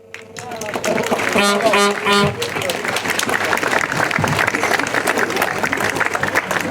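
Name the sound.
applause for the primary school pupils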